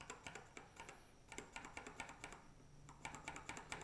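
Steady typing on a mechanical keyboard with firm linear Cherry MX Black switches, clacking keystrokes in quick irregular bursts with brief pauses, close and clear.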